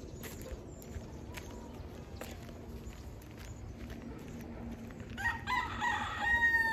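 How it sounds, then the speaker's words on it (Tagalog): A native rooster crows loudly and close by near the end, following a stretch of steady outdoor rustling and footsteps. "Ayan, nakikirikik na."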